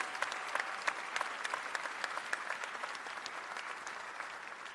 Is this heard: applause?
yes